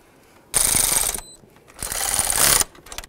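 Ratchet snugging up the bolts on a brand-new EGR valve with a new gasket on a Chevy S-10: two bursts of rapid ratcheting clicks, the first about half a second long and the second longer, loud and close with no talk.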